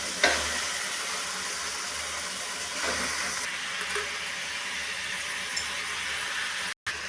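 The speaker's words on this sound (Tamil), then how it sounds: "தக்காளி போட்டு நல்லா வதங்கட்டும்." Onion and tomato sautéing in a pan for a chicken curry, a steady broad hiss of frying with a few light stirring scrapes, close and even, cutting off briefly near the end.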